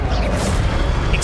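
Levioso levitation spell cast in Hogwarts Legacy, a dense whooshing magical burst with a low boom underneath and bright shimmering swishes on top, held steady and loud for about a second.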